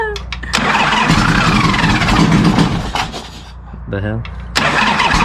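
A car engine cold start: the starter cranks, the engine catches and roars loudly near the microphone, then settles, dips and revs again. A person speaks briefly over it.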